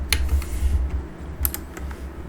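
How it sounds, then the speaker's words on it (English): A computer keyboard key pressed during a flight-sim session, a few sharp, quiet clicks spaced apart over a low steady hum. "push G on the keyboard to bring the gear up"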